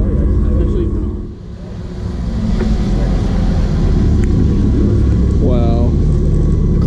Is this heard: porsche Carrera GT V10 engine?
yes